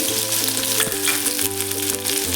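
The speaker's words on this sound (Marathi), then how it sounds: "आता याच कढईमध्ये आपल्याला हा कांदा कांदा घालून घ्यायचा आहे" Chopped onion fries in hot oil in a wok after coconut has been roasted in it, making a steady, dense sizzle that runs unbroken and fairly close, with no voices.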